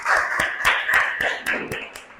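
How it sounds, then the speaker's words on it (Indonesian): Group of students in a classroom clap in a steady, loud rhythm of about ten sharp, evenly spaced claps with no talk over it. "tepuk tangan kita semuanya"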